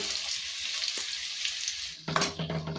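Onions and green chillies frying with mustard seeds in hot oil, a hissing sizzle that swells louder near the end as a utensil stirs, close by.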